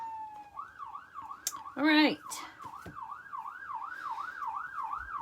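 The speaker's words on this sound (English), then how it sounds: "I'm sure you can hear that siren" An emergency siren wails outside through an open window, its rising and falling tone steady and fairly loud, with a brief burst of other noise partway through and a voice speaking briefly.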